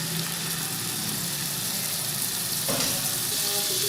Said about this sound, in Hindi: जैसे ही ये थोड़ा सा गर्म हो जाए तो इस पर स्टेक रख दें।